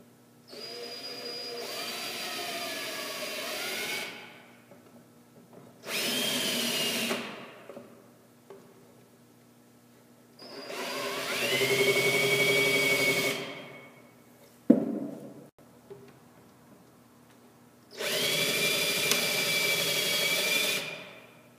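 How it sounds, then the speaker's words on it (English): A power drill with a countersink bit cuts into a pre-drilled hole in wood, whirring in four separate bursts of a few seconds each with pauses between, close and steady. "I'm going to countersink down into that pre-drilled hole"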